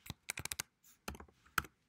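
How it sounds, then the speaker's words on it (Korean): Quick bursts of computer keyboard typing, a run of crisp close clicks followed by a pause and a few more keystrokes, with no voices. "요거는 그냥 타이핑을 할게요"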